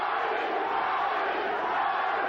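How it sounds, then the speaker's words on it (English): Dense boxing-arena crowd chants steadily for fighter Arturo Gatti during his bout with Wilson Rodriguez, a continuous roaring wash of massed voices with no distinct individual speech. "Crowd chanting, Gatti, Gatti, Gatti."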